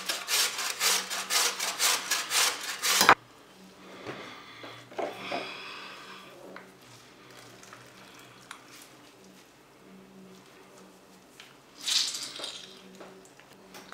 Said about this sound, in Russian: Мы его натрем прям сырой на крупной терке.